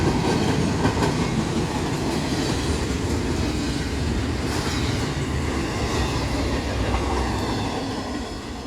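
A CSX freight train rolls past close by, a loud, continuous rumble of wheels with steady clickety-clack and faint squeals, easing slightly at the end.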